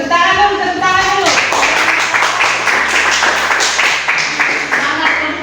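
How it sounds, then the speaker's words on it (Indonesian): Students in a classroom clap together in fast, loud rhythmic bursts that start after a brief voice and run steadily for several seconds, with children's voices mixed in. "Tepuk tangan dulu, tepuk tangan dulu."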